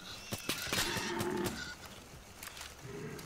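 A cow in the Far Cry 5 video game lets out a drawn, low moo amid sharp clicks and knocks of gameplay sounds, fairly near and clear.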